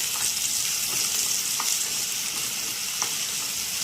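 Onions with salt sizzle steadily in a covered pan, softening for a hotel-style puri kurma. The hiss is close and continuous, with occasional faint stirring taps and no voices.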